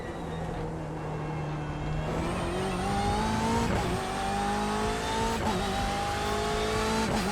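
A GT race car on a circuit in Austria in a racing game, its engine climbing steadily through the revs with clear gear-change dips, loud and close throughout with no talking.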